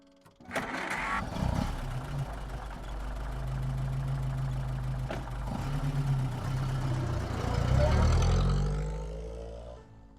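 A car engine fires up with a sharp start, then runs steadily at a low idle hum that swells slightly before fading near the end, heard close and without speech.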